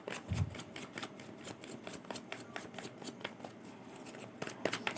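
Tarot cards shuffled by hand in a quick, steady riffle of soft flicks and slaps, close and fairly quiet, with no talking over it.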